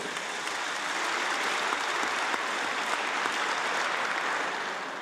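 Members of parliament applaud in a legislative chamber, a dense, even wash of clapping that carries on steadily throughout with no voices.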